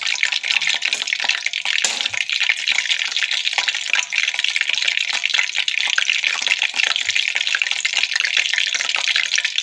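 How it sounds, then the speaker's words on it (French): Potatoes cut for French fries crackle and hiss steadily in a deep bath of hot oil, a dense, continuous close frying sizzle with scattered pops and no voices. "Et après on va les plonger dans le bain d'huile."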